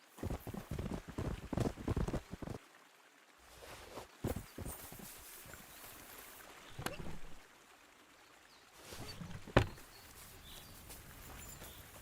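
Horse hooves clip-clop in the video game Kingdom Come: Deliverance 2 as a skinny horse walks, with irregular hollow hoof knocks, some louder and closer, over a low outdoor ambience with a faint watery rush.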